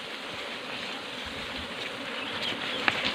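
Bees swarm around a wooden hive box used for beekeeping, making a steady, dense buzz close by with a faint outdoor hiss beneath, and no one speaking.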